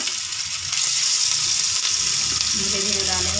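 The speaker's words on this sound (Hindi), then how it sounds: "अब इसमें हम ये कबाब डालेंगे और इसे शैलो फ्राई करेंगे।" Galawati kebabs shallow frying in hot oil, giving a loud, continuous sizzle that picks up as they go in, with faint bubbling throughout.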